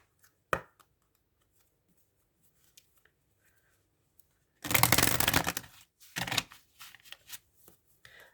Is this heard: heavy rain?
no